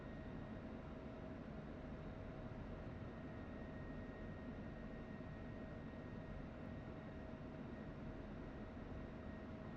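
Steady, continuous engine drone of an F-16C jet idling on a runway in the DCS flight simulator, a broad even hum with faint tonal whine, constant level with no talk.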